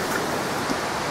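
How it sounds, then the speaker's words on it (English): A waterfall on a Welsh hiking trail gives a constant loud wash of rushing, splashing water, filling the whole moment with no talk. "There's the waterfall."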